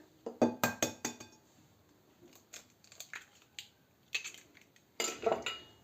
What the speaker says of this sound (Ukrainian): Так, довбиваємо сюди два яйця.